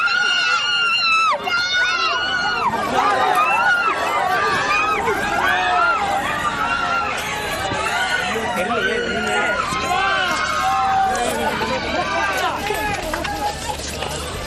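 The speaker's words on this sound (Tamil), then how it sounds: "அதில் விஜய் தான் செல்கிறார் என ரசிகர்கள் ஆரவாரம் செய்தனர்." Fans outside actor Vijay's house in Tamil Nadu on his birthday roar and shout as a luxury car pulls away. The crowd noise is loud and sustained, with many overlapping voices and scattered screams.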